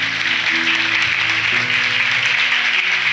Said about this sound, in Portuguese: Vamos aplaudir Ele.